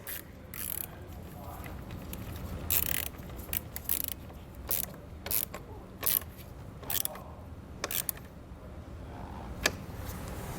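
A ratchet clicks in short bursts as a nut is tightened on a Roadmaster battery charge line kit on a towed vehicle, close and soft over low background noise.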